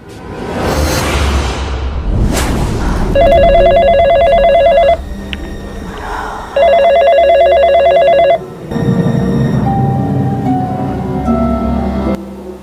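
A telephone rings in two long bursts of electronic trilling, separated by a short pause, with some rustling and whooshing before and after.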